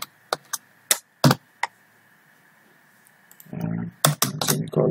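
Keys clack on a computer keyboard during login entry in a C# hospital management program, a few sharp isolated clicks followed by a denser burst of typing.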